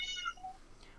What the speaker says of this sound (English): I hear a kitty. My cat!